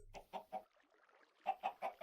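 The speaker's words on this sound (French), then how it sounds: "Voici mon enclos à poules." Minecraft chickens in a pen give short, clipped clucks from a video game: three quick clucks, a brief softer pause, then four more in a steady rhythm, close and clear.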